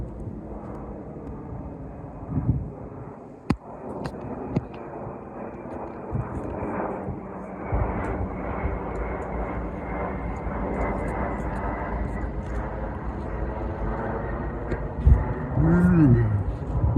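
A fixed-wing airplane passes overhead as a steady, broad engine roar that holds through the stretch while people talk over it, with a brief low whine near the end.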